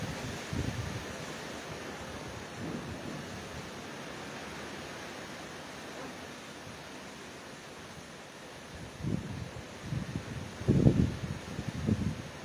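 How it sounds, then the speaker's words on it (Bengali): Strong wind from Cyclone Remal blows across Pabna on a clear day, making a continuous broadband rush with heavier gusts buffeting the microphone toward the end. "দিন পরিষ্কার কিন্তু প্রচন্ড বাতাস"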